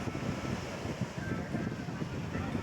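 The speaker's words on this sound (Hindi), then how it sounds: "सरसराहट की आवाज़ और समुद्र की लहरों की आवाज़ बहुत ही सुंदर लगता है" Wind buffets the microphone at the seaside, a steady broadband rush mixed with the low wash of ocean waves, loud and unbroken, with no clear individual breakers.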